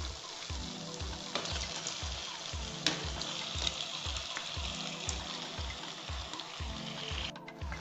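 Chicken pieces frying in a pan with tomato paste, a steady broadband sizzle throughout with a regular low thumping pulse beneath, close and moderately loud.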